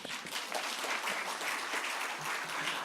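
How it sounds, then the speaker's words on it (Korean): Applause from a church congregation welcoming a new student drummer joining the youth worship team, steady and fairly soft, filling the room throughout without talk. "박수 한번 주세요"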